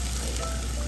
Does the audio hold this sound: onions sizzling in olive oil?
yes